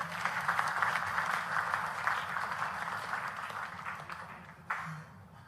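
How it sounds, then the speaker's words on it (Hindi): Audience applause at an official event in Madhya Pradesh, moderately loud and steady with a broad even texture, easing slightly toward the end. "शुभ शुभ के लिए ताली बजा दे।"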